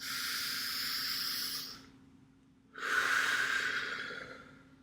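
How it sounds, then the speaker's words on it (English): A deep diaphragmatic belly breath drawn in with a long airy hiss, then a short pause before a strong, breathy exhale, both close and alone with no talk. "we're doing a deep diaphragmatic belly breath. We're breathing deep into our belly."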